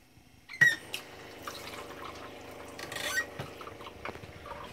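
Water runs steadily from a travel trailer faucet being flushed through its lines, a continuous close hiss with a few squeaks and clunks of handling near the start.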